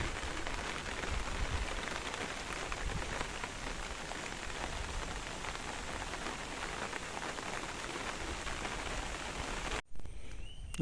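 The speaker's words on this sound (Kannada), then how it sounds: "ಮಳೆ ಒಂದು ವಾರದಿಂದ ಒಳ್ಳೆ ಜಾಸ್ತಿ ಇದೆ ಮಳೆ" Heavy rain pours steadily beside a rural paddy field during the planting season, a dense continuous hiss of drops that runs alone for about ten seconds before cutting out abruptly near the end.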